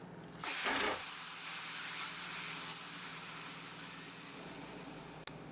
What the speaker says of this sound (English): Now the cast iron pan comes out of the oven and we place the turkey into the hot pan